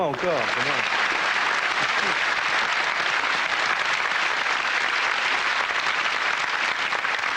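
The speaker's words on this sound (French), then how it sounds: "On vous applaudit." Dense, steady applause from a TV studio audience on a French talk show fills the whole stretch at constant loudness, with a brief voice heard at the very start.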